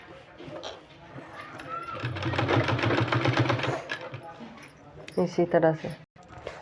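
A sewing machine stitches a fabric sleeve strip in one sustained whirring run of a couple of seconds, followed by a pause and then someone speaking in Hindi.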